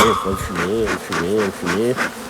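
A honeybee buzzes loud and close around a beekeeper in a protective suit at the hives, its drone rising and falling in pitch as it circles, with brief speech underneath.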